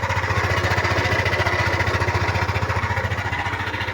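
A Yamaha NMAX scooter engine idles steadily at close range while cold, its rough rhythmic putter carrying a gritty grinding rattle throughout, like stones or gravel being ground inside a cracked engine.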